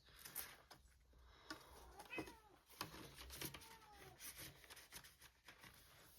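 A household cat cries with several drawn-out, wavering meows amid quiet indoor room noise, moderately close and fairly faint.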